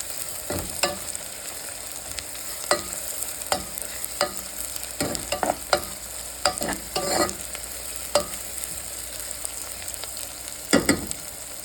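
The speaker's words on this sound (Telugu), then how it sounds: "ఇలా ఆయిల్లో మనము ఆనియన్స్ ఫ్రై చేసుకోవాలి" Onions frying in oil in a pan give a steady low sizzle, broken repeatedly by sharp scraping clicks from stirring, all close and moderately quiet with no talking.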